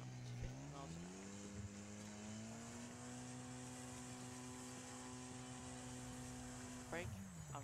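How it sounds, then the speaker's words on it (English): Raiden RS car braking hard in the Wreckfest racing game at Dirt Devil Stadium, engine tone dropping in pitch as it slows, then holding a steady drone before a short rise near the end. "This is me braking"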